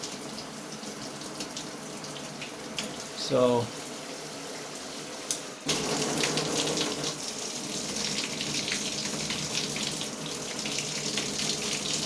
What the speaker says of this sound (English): And this is like a higher flow rain.